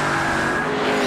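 Onboard engine of the number 27 Mopar Dodge NASCAR race car at a street circuit in Toronto, a loud, steady high-revving roar with a sustained engine whine and no talking.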